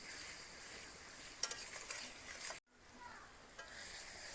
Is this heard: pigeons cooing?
no